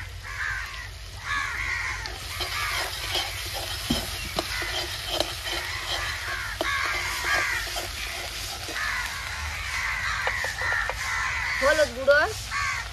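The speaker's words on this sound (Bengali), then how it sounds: "পিছনে কাকগুলা দেখেছো কিরকম কাকা করছে বন্ধুরা।" Crows caw repeatedly in the background of an outdoor kitchen, their calls coming and going over a low frying sizzle. Someone talks throughout, and a louder burst of cawing comes near the end.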